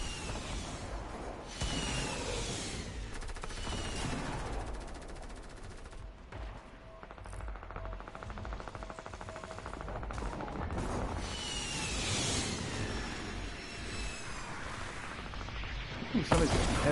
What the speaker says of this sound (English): Ooh, somebody's got some heavy artillery.